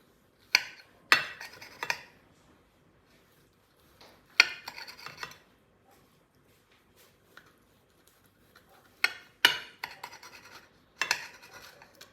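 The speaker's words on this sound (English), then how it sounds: "you can just slice them into little washers" A knife slicing stuffed calamari into rings on a board, heard as short close bursts of cutting and scraping in several separate groups with quiet gaps between them.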